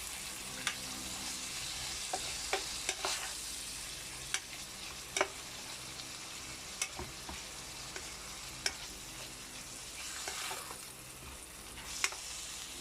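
Chicken with garlic sizzles quietly in a hot pan while a utensil stirs and scrapes now and then, with scattered light clicks over the steady frying hiss.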